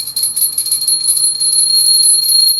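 Bright, sustained ringing of a handheld bell, loud and close, shimmering steadily throughout with no talk over it.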